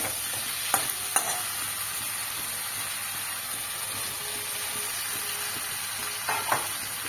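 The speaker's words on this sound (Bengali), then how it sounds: "সয়াবিনটা দিয়েও এখন খুব সুন্দর করে লাল লাল করে আমি কষিয়ে নেব।" Boiled soybeans and potato pieces sizzle and fry steadily in hot oil in a pan, a continuous close hiss with a few brief stirring scrapes and no talking.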